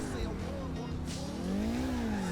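A car in the video game Grand Theft Auto IV accelerates hard with its engine revving and its tires squealing, loud and continuous, while a player talks over it.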